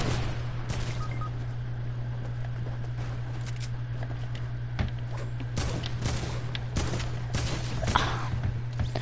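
Rapid bursts of gunfire ring out in a heavy-metal-themed shooter game, irregular cracks and volleys layered over a steady low hum, with no talk.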